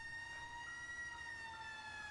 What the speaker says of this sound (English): So, your siren's on.